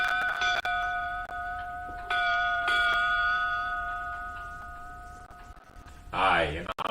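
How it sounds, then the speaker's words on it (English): Ship's bell struck eight bells in pairs, ringing with clear sustained metallic tones that decay slowly between strikes, followed by a brief burst of talk near the end. "we sound the 8 bells"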